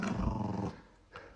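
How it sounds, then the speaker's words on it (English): A dog gives a low, rumbling growl up close for under a second, then stops, and a brief faint snuffle follows in the quiet. "The bloody dog."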